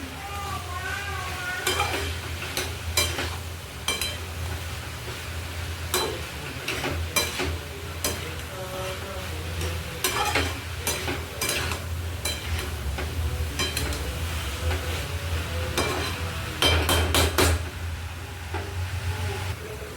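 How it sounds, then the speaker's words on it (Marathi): Grated coconut is stirred and mixed in a frying pan while making a red pumpkin bhaji, giving repeated scraping strokes of a spoon against the pan over a steady low sizzle, close and moderately loud, with no talking. "ह्याला पण आपण एकत्र मस्त मिक्स करून घेऊया।"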